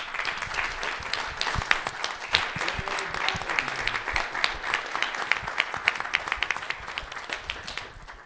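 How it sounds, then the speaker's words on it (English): An audience at a conference on Mormonism and the Internet applauds organizer Boyd Peterson, sustained dense clapping at an even level with crisp individual hand claps, tapering off at the very end. "So again, a round of applause for Boyd Peterson."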